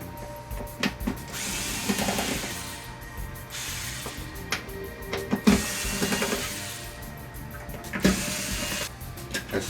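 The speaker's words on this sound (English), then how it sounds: "there's obviously 4 Phillips screws need to come off" A power screwdriver removes Phillips screws from the back panel of a TCL Roku TV in bursts of whirring, with clicks and handling noise between the runs.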